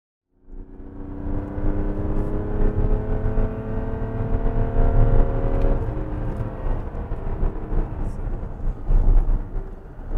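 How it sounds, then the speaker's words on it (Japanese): Mazda CX-60 straight-six diesel with an AutoExe ram air intake accelerating, giving a loud, steady engine drone with a rushing intake whoosh that builds and holds throughout, heard from inside the car. "このアクセルを踏み込んだ時にシューっていう音が聞こえるんです"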